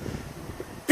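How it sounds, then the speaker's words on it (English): One sharp, loud cough bursts out at the very end after a near-silent stretch, from someone talking football. "I'm coughing like crazy right now."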